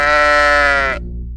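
A sheep gives one loud, close bleat that holds for about a second and then cuts off.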